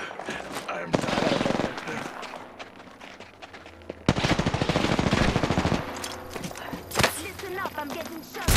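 Rapid automatic gunfire bursts in the battle royale game Apex Legends, loud and close, mixed with game effects and the excited talk of players.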